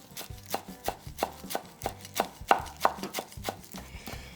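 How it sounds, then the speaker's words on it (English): A knife roughly chops cilantro on a cutting board in steady, evenly spaced strokes, about a dozen crisp thuds close by with no voices. "all I'm gonna do is chop it roughly"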